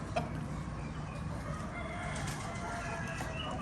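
Pet chickens cluck while eating scattered grain alongside rabbits and pigeons, a faint, steady background of soft clucking with no talk.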